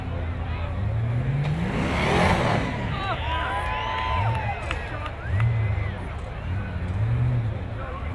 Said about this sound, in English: isn't that a beautiful sounding vehicle when it gets on the gas